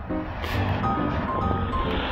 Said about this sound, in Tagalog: daluyong ng dagat.